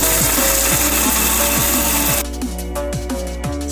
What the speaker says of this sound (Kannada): ಈಗ ಇದನ್ನು ನಾವು ಮಿಕ್ಸಿ ಜಾರಿಗೆ ಹಾಕಿ ಗ್ರೈಂಡರ್ ಮಾಡ್ಕೊಳ್ಳೋಣ.